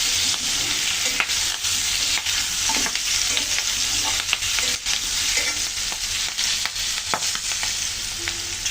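Green chilies being stirred and fried in a pan for a pumpkin and potato curry, with a steady dense sizzle throughout and repeated scraping strokes of a spatula close by, no voices.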